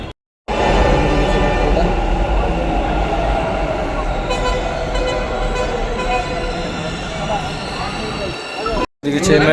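Metro train running near Bangalore, a loud steady rumble with tonal whine, heard from inside the carriage with voices talking over it, cutting off briefly near the end.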